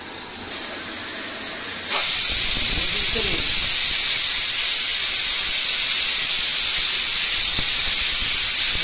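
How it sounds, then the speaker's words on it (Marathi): Pressure cooker cooking chickpeas gives a long whistle, a loud, steady hiss of escaping steam that kicks in after a quieter opening and runs on unbroken, with a voice faintly talking over it early on. "मस्त ही लॉंग सिटी बघा ही लांब लचक सिटी हो गई"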